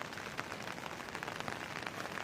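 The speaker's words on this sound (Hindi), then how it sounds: "अब आज देखो बिल्कुल सुबह से लेकर अभी तक बारिश ही बारिश हो रही" Steady rain falls in a Himachal hill village during the monsoon, a continuous soft hiss of drops pattering on surfaces, faint and even throughout with no talk.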